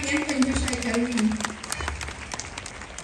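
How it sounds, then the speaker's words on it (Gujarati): An audience at a village foundation day celebration in Bharoda claps for daughters' exam results, a short burst of close applause heard beneath a speaker's amplified voice. "દીકરીઓએ આટલી મહેનત કરી છે તો આપણે તાળીઓ પડાવવામાં કેમ કંજૂસાઈ કરવી?"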